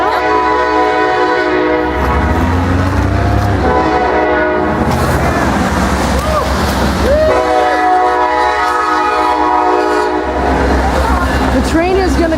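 Train passing close at an outdoor vigil, its horn sounding in repeated long blasts over the continuous rumble and rattle of the cars, with people talking faintly in the background.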